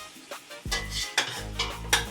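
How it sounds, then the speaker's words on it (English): Meats and andouille sausage sautéing in a pot for Creole jambalaya, with repeated scraping stirs of a utensil against the pan over a low sizzle, close and fairly quiet. "So we saute the meats, the andouille sausage,"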